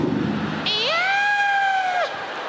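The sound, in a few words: comedian imitating a nervous cat's meow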